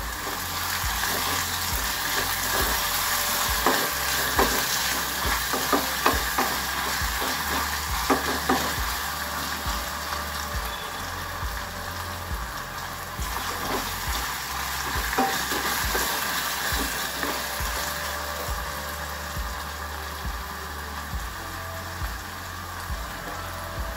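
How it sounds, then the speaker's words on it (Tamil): Onions sautéing with salt in a pan for Tamil Nadu-style egg masala, with a steady sizzle and repeated scraping stirs of a spoon throughout, no talking. "சால்ட்டு போட்டு வதக்கினீங்கன்னா வெங்காயம் சீக்கிரம் வதங்கிடும்."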